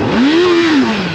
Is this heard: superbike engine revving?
yes